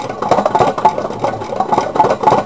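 A homemade Stirling engine built from a tin can runs steadily with a close, continuous mechanical rattle and light rhythmic knocking, and no voices are present.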